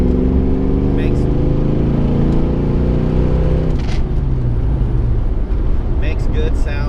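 A 1990 Ford Mustang GT with its 5.0 V8 pulls along the road, the engine's low, steady drone strong and close throughout and shifting in pitch partway through, with faint road and wind noise on top.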